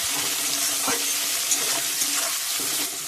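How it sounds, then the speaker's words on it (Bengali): Onions frying in oil in a pan, a steady dense sizzle with occasional stirring scrapes, close and continuous throughout. "পেঁয়াজটা লাল লাল করে ভাজা হয়ে গেছে"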